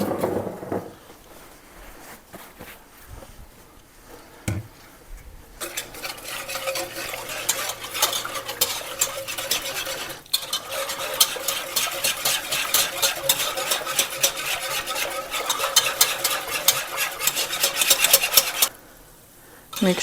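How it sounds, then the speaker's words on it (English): A cornstarch sauce is whisked briskly in a bowl, fast rhythmic metallic scraping and clicking that starts after a few quiet seconds of handling, holds steady for about thirteen seconds, then stops abruptly. "we're just going to whisk all of that together"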